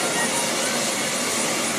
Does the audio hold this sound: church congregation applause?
no